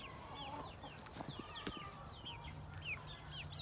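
Four-week-old chickens, feathered out and free ranging, give scattered short peeps and soft clucks at moderate distance, irregular and fairly quiet over a steady outdoor background.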